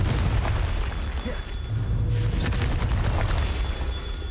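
A Confringo spell's explosion effect goes off: one broad, booming blast near the middle over a steady, rumbling low background, with no voices.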